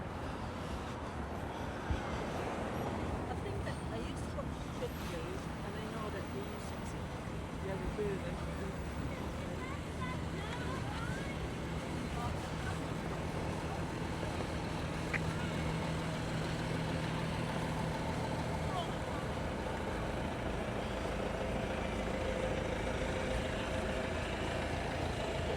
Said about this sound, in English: Bit of traffic down here.